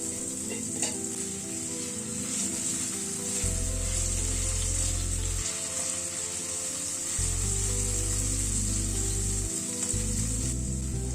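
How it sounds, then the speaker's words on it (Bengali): Carrots and beans frying in a pan, a steady close sizzle with a spatula scraping and stirring through it, while a low hum switches on and off in the background. "গাজর বিনসটাকে মিনিট 2 মতো একটু নাড়াচাড়া করে নিলাম"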